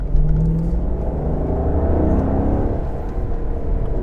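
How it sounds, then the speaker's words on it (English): Ferrari V8 engine revving loudly and close by, a dense low rumble with rising and falling harmonic whine as the revs climb and settle, continuous throughout. "There's nothing like a V8."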